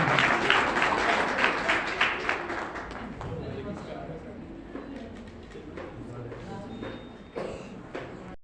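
Applause from an audience at an award ceremony starts loud and dense, then thins into scattered claps that fade, with voices talking over the tail.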